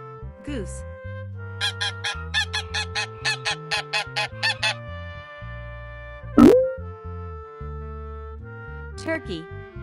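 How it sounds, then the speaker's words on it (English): A goose honks in a rapid series of about a dozen loud, nasal calls in steady rhythm over soft background music, then a sliding sound effect and one more short honk near the end. "Goose."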